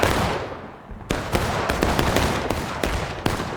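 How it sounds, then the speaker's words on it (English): Musket volleys crack out in War of Rights, a Civil War battle game, with loud, closely spaced shots and sharp bursts layered over a constant rumbling din of distant fire. "So they're shooting into Big Mac right now."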